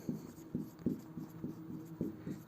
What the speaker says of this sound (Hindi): तो हम इसकी डेफिनेशन लिखते हैं।